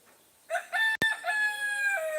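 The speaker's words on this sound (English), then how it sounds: "Can you hear the rooster?" A rooster crows nearby at six in the morning, a drawn-out rising and sustained cock-a-doodle-doo call with a brief sharp click partway through, alone over quiet background.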